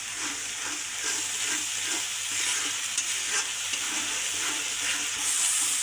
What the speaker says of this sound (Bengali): মশলাটা কিন্তু আগে তেলে ভেজে নেব